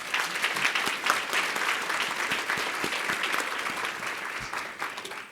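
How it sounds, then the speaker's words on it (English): An audience at a medical lecture on pain treatment applauds its speakers with steady, dense clapping that holds for about five seconds before tapering slightly at the end. "How about a round of applause for our speakers?"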